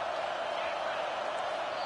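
A stadium crowd roars during a Clemson at Georgia college football video game, a constant, dense wash of cheering noise that fills the whole short stretch without any clear break.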